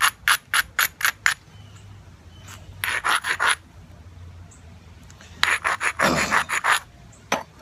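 A stone rubbed against the edge of a rock during flint knapping, a close scraping rasp in quick bursts of strokes separated by short pauses.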